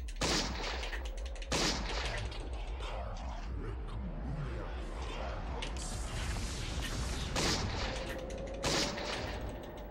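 Gunshots in Eternal Darkness: Sanity's Requiem: several loud, widely spaced blasts over a constant low rumble and dense game noise, with a voice talking in the background.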